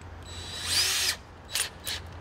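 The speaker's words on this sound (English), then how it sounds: "Now put the tiny pilot drill bit in." A small power drill with a tiny pilot bit whirs in a short burst, then gives two quick brief pulses, close by with a low steady hum underneath.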